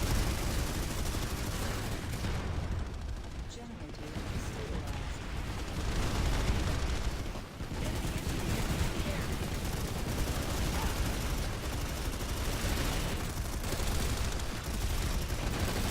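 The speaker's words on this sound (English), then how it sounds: "they got a mana turret around the corner, just sat there glacking at all the TR" A MANA turret fires continuously in Planetside 2, a dense, sustained barrage of rapid gunfire and blasts, loud and close throughout.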